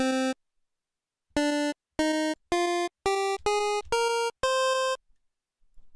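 A sequence of bright, buzzy Nintendo-style chiptune synth notes steps upward one by one, short beeps with pauses between, clean and electronic.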